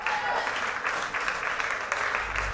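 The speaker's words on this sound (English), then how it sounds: "Please give him a warm round of applause." A warm round of applause at a debate show as a poet is introduced, continuous clapping from a crowd with a low rumble creeping in toward the end.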